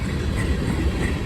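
A CSX freight train of anhydrous ammonia tank cars rolls past steadily, a continuous low rumble of wheels and rail noise held at even loudness without pause.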